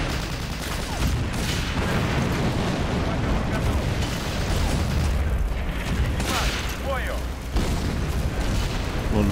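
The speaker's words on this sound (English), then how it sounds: "Trying to use our artillery." Artillery fire in Hidden Stroke II during a Kursk tank battle: a dense, continuous rumbling roar of booms that runs the whole stretch with no clear gaps, with a voice faintly present under the barrage.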